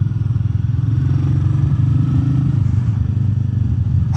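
A Royal Enfield Meteor 350 motorcycle exhaust thumps loudly and close at a steady, rapid idle-like rhythm, with slight rattling over the deep pulsing throb.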